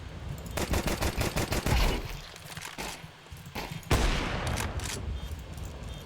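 Rapid bursts of Counter-Strike 2 gunfire against bots, quick automatic volleys followed by a couple of heavier single shots, loud and close with no talking.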